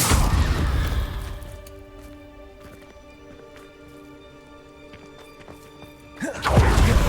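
Confringo fire spell explosions in the Hogwarts Legacy video game: a loud, booming blast at the start and another at the end, separated by a quieter stretch of soft game music.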